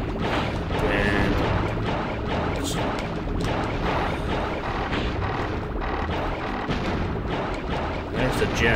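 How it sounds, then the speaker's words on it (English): Loud, continuous explosions from a video game fill the space with a dense, rumbling barrage of blasts and crashes, layered over a person talking. "this thing is loud as hell. It's just all explosions."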